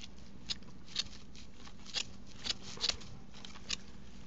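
Scissors snip through excess burlap fabric while trimming a burlap pumpkin, a run of quiet, crisp cuts repeating every half second or so, close and fairly soft with no talking.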